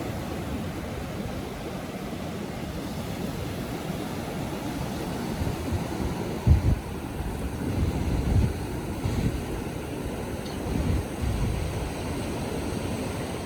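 Surf rolls onto the beach at Padre Island National Seashore as a steady broad wash, mixed with wind buffeting the microphone and a couple of brief thumps, continuous and without voices.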